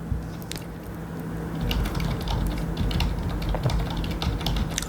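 Quick, irregular clicking of fingers typing on a computer keyboard, close and crisp, with soft taps in uneven bursts over a quiet background.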